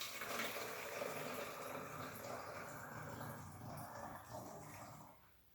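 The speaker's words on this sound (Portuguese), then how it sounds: "Vamos colocar agora os 250 ml de água morna, ou seja, metade dessa garrafinha aqui de água morna." Warm water, 250 ml, poured from a small bottle into a bowl for bread dough, a steady broadband splashing rush lasting about five seconds before trailing off, heard alone and close.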